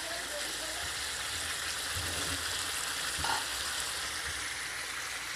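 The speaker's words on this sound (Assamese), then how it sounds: "ফ্ৰাই কৰি আছোঁ।" Chicken frying in a pan gives a steady, close sizzle that holds evenly throughout, with faint clatter now and then and no voices.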